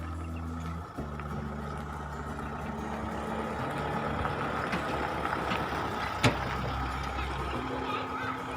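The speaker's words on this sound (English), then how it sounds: "Murray's just heading out with the caravan now." Car towing a caravan pulls away at a caravan park in Queensland, a steady low engine drone with a rumbling, droning tone that holds throughout, with a brief sharp knock partway through and faint voices in the background.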